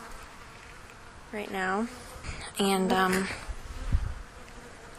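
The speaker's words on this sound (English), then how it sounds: "there are bees around me, and I've walked away from the hive." Honey bees buzzing near their hive boxes on a bee farm, a low droning hum under a person speaking close by in short bursts, the buzz steady behind the talk.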